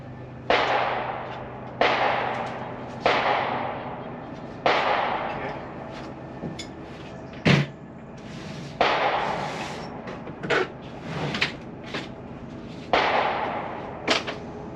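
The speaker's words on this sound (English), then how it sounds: "I need to torque on my rod bolts still." Repeated ratcheting clicks from a torque wrench tightening connecting rod bolts on a Ford 302 bottom end, coming in short bursts of several pulls with pauses between, close and fairly loud over a quiet workshop background.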